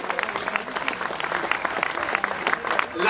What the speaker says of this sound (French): grande main d'applaudissement aux gens de la Société Saint-Jean-Baptiste